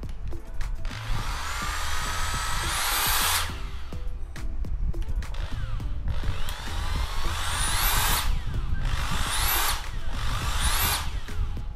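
A Makita corded screwdriver drill runs in repeated bursts, with a high whine that spins up and winds down several times, loud and close, with no voices.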